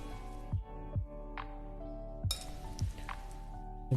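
A fork mixing a gyoza filling of milk, breadcrumbs and spices in a bowl makes a handful of sharp, close clinks against the bowl, spaced irregularly over a low steady hum.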